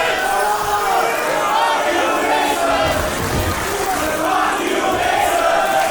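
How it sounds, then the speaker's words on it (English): A wrestling arena crowd roars and chants insults at a heel wrestler, a loud, continuous wall of voices with rhythmic swells and no letup. "I think the crowd is saying, funk you, funk you."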